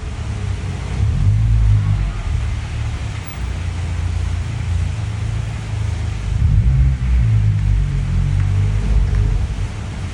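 An 8th-generation Honda Civic Si drives away, its low engine rumble steady and moderately loud with a slight swell as it pulls off, fading somewhat toward the end with no talking.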